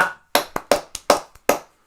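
A single pair of hands claps sharply about six times in an uneven rhythm, close and loud, with short silences between the claps.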